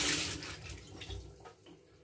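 Lukewarm tap water runs and splashes over metal parts of a grill toaster being rinsed, a close, fluctuating gush that fades slightly over two seconds.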